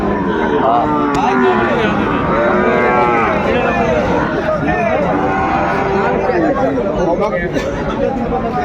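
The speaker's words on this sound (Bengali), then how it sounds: "শাহিওয়ালের বাচ্চা আমরা দেখছিলাম এখানে যে গরুগুলো।" Young Sahiwal bull calves moo repeatedly at a crowded cattle market in Dinajpur, Bangladesh, their drawn-out calls overlapping with constant loud chatter from many people nearby.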